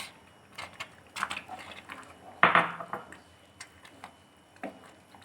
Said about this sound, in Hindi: अब हम कस्टर्ड में जो हमारी सेवइयाँ बॉयल की हुई थी ये डाल देंगे